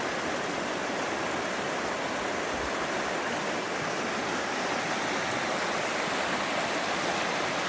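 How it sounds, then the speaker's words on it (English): A swift creek in Oregon rushes steadily over rocks, a loud, continuous broadband roar of churning water with no pauses and no voices. "This is more than a bubbling brook. This is a really swift creek."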